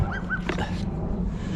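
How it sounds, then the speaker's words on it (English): Dogs barking and whimpering nearby in a neighborhood yard, a quick run of yips and barks in close succession, loud and close with no talk. "those dogs are relentless."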